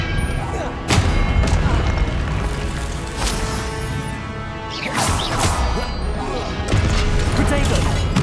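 Booming spell blasts from Hogwarts Legacy combat: several loud, crashing explosions with whooshing bursts, repeated across a chaotic fight with other spell effects.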